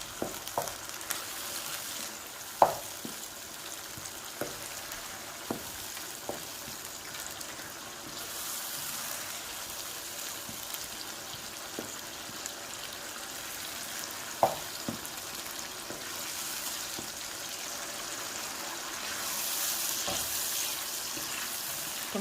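Lamb karahi being stirred with a spoon in a pan: steady soft sizzling throughout, with sharp spoon clinks and scrapes at irregular intervals, growing slightly louder near the end.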